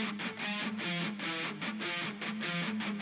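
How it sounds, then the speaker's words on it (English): Djent-style guitar riff played through a filter, panned hard left and right, giving a muffled, chopped, rhythmic chug with steady level and no talking. "So this is what the filtered out riff sounds like."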